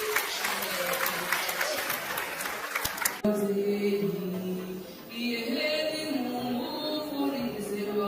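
Guests clapping at a Rwandan wedding ceremony, dense applause for about three seconds that cuts off abruptly, followed by singing and other sounds.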